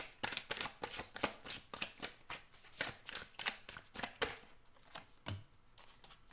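Brand-new, slippery tarot cards being shuffled by hand, giving a steady run of crisp riffling bursts close to the microphone, repeating quickly for several seconds with no talking.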